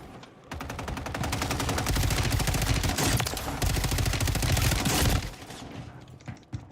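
Rapid, sustained automatic gunfire in a shooter video game with sniper weapons, loud and dense for about five seconds, then dropping to a few scattered shots and clicks.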